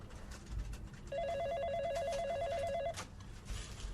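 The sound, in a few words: telephone bell ringing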